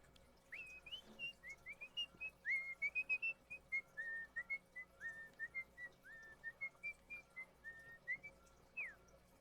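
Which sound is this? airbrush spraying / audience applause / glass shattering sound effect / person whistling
person whistling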